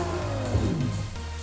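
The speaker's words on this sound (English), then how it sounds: "We've got the doors open, we should be able to hear the engine note a little bit more than we can." In the Forza racing video game, a car engine hums and its pitch shifts steadily as it revs and eases off, heard close and continuous with no talking.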